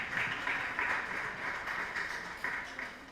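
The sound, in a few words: audience clapping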